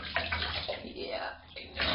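Warm water runs from a tap into a bathtub while a husky mix and a copper golden retriever are bathed, a steady close splashing rush that swells at the start and end.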